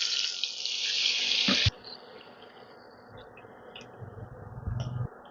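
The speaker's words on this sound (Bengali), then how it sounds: "এবারে আমি দিয়ে দিচ্ছি 2 কাপ পরিমাণ জল।" Two cups of water poured into a semolina mixture, a loud, close, steady rushing pour lasting under two seconds and cutting off sharply, followed by quieter clinks and soft handling sounds.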